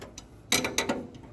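A socket is tightened down onto the swing lever of a 1970 VW Bus, giving a short burst of three or four close, sharp ratcheting clicks after a quiet start.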